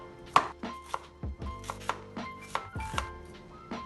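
Green onions and half a yellow onion chopped with a knife on a board, about ten crisp, sharp chops in an uneven rhythm, close and clear with no talking.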